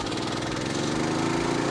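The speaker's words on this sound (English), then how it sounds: "To start the compressor, you just put the fuel on," Small petrol engine on an air compressor running at idle, a loud, close, steady mechanical drone with a fast rhythmic pulse, continuous and unbroken throughout.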